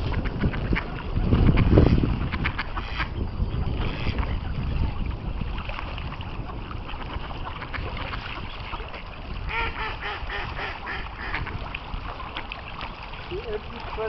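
Ducks quack near the water while swans feed on bread nearby, the calls mixed with steady outdoor noise, splashing and people talking throughout.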